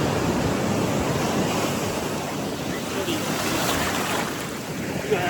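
Sea waves wash onto the shore at Vizag beach in a steady, loud roar of surf, mixed with wind buffeting the microphone and no clear break in the sound.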